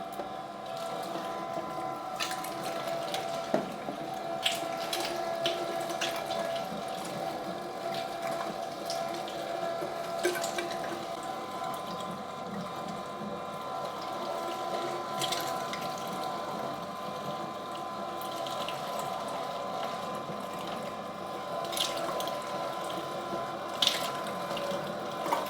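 An electric meat mincer grinds pork shoulder and pork belly through a 10 mm plate, giving a steady, continuous motor whir with faint mechanical clicks that runs unbroken for the whole stretch, heard alone without any talk.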